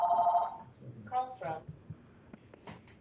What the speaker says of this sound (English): So that's the chairman of the NFL calling for Bill.